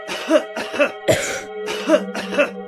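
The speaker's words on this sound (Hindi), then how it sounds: "कोरोना वायरस की चपेट में आने के बाद खांसने लगते हैं" Five separate coughing bursts at a steady pace, close and fairly loud, the middle one harsher and rougher than the others.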